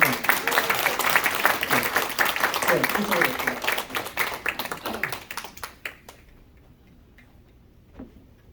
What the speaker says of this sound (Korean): 먼저 박수로 한번.